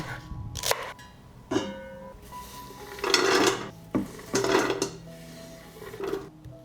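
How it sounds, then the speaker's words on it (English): A knife cuts through celery for a gentle vegetable soup: a handful of crisp, irregular cuts and rubs, close and clear, with no talk. "I will cut the celery"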